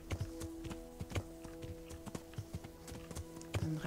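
Horse hooves while riding down a path in Kingdom Come: Deliverance, a steady, faint clip-clop of walking steps over a quiet, humming game backdrop.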